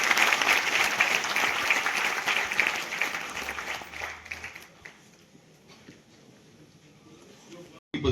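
Audience applause at a literature festival in Nalanda, a dense sustained clapping from a crowd that fades after a few seconds into quieter room noise with a few scattered claps.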